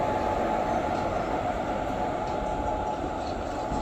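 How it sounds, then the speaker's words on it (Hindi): Etawah Kota Express passing during a crossing with another train, a continuous loud rushing roar of wheels and coaches, steady and close throughout. "क्या खूबसूरत क्रॉसिंग मिली है इटावा कोटा एक्सप्रेस की"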